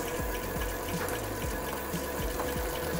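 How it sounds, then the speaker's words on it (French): A Vélobécane electric-assist bicycle's motor kicks in as the pedals turn, giving a continuous mechanical whir with a rhythmic ticking pulse, close and steady, with no voices. "on va voir que le moteur se lance."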